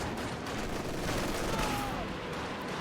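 Katyusha rocket barrage in Company of Heroes 2, a dense rumbling volley of launches and impacts rolling continuously, with a faint whistling streak, under quiet commentary.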